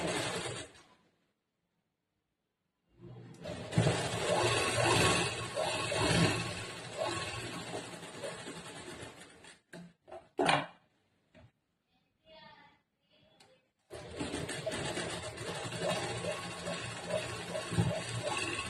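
A sewing machine stitches along folded blouse fabric, running in long steady bursts with pauses and short start-stop runs between them, close and fairly loud.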